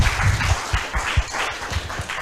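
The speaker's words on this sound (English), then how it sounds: "I want to give a round of applause to the high school level students" Short burst of applause in a high school and university debate hall, many hands clapping in uneven bursts at moderate loudness, with no one speaking.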